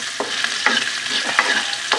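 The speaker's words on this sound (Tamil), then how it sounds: "இப்போ வெங்காயம், இஞ்சி, பூண்டு எல்லாம் போட்டு வாங்கிட்டு இருக்கிறேங்க" Onion, ginger and garlic frying in a pan, a loud close sizzle with repeated spatula scrapes and taps at irregular intervals, no voices present.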